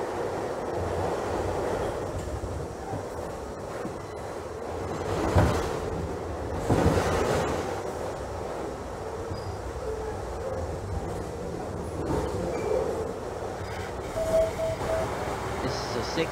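A New York City subway train on the 6 local line runs in the Trainz Simulator 2012 game, a steady low rumble of wheels and motors with brief louder surges, under an automated announcement voice.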